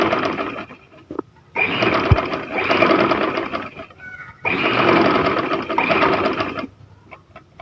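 Sewing machine stitching trouser fabric, running close in two long steady bursts of rapid rattling with a short pause and a softer stop between them.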